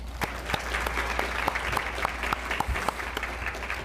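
An audience at a chamber of commerce scholarship awards ceremony applauds steadily for several seconds, a dense patter of hands with a few sharper individual claps standing out over a low hum.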